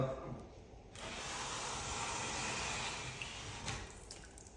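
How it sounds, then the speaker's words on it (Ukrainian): Water from a drywall paper-tape soak pours steadily back into a bucket with a rushing, splashing stream that starts abruptly and runs for several seconds before easing off. "і вся вода, все в відро назад."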